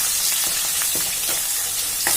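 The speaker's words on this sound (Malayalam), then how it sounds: "നമുക്ക് വേപ്പില ഇട്ട് കൊടുക്കാം. പച്ചമുളകും ഇഞ്ചിയും കൂടി ഇട്ട് കൊടുക്കാം." Curry leaves, green chilies and ginger sizzle in hot coconut oil, a loud, dense crackle close by, with a few quick pops and stirring taps.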